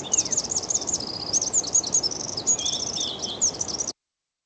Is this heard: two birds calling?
yes